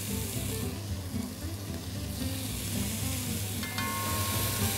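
Sausage sizzling and frying in a hot pan, a steady crackling hiss throughout, fairly close, with a light clink near the end and no talking.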